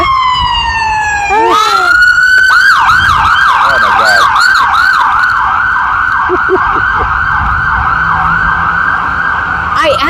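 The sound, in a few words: ambulance siren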